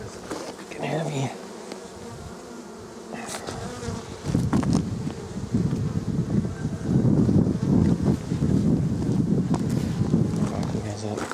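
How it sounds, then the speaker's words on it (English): Honeybees buzzing around an open hive during a hive split, a dense droning swarm close to the microphone that grows louder midway, mixed with wind noise, handling bumps and someone talking. "buzzing around, getting aggro, you know, a lot less of that in this hive than the other hive"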